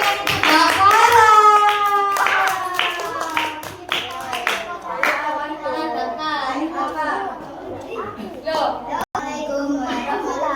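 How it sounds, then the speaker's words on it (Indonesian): Children clap their hands for a young performer at a Ramadan boarding-school event, with lively rhythmic clapping mixed with kids' chatter and a voice talking throughout. "Jadi tepuk tangan untuk Mbak Sarah."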